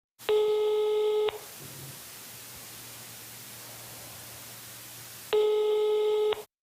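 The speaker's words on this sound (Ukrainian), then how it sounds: "телефонуємо за ним, але слухавки ніхто не підняв" An unanswered phone call: two long ringback tones about four seconds apart, with a faint hiss and a low hum between them.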